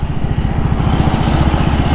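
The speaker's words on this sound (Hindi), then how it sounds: "इस सिंगल सिलेंडर इंजन है भाई" Triumph Speed 400 single-cylinder motorcycle riding in third gear at a low speed of about 20, its engine giving a steady, rapid, evenly pulsed thump that stays close and loud throughout, with no talking.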